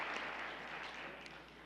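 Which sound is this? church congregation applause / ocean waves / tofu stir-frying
church congregation applause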